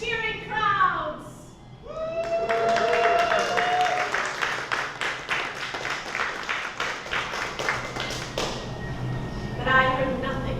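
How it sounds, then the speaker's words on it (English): Crowd at an old-fashioned Fourth of July celebration reenacting the 1776 reading of the Declaration of Independence, cheering and clapping loudly for several seconds after a voice finishes speaking, with a burst of cheers and claps. "Let me hear the cheering crowds!"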